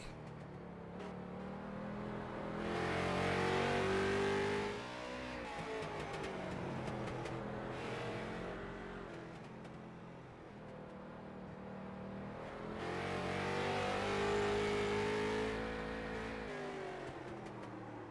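Race cars howl around a figure-8 track during night qualifying, engines swelling loud as they pass close, fading slightly, then surging again in a continuous roar of revving and whirring motors.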